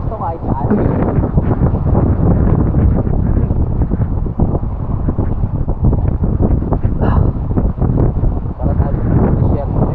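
Strong wind on a beach with fine sand, blasting and buffeting the microphone in a loud, continuous roar with gusty pulses, nearly drowning out people talking nearby.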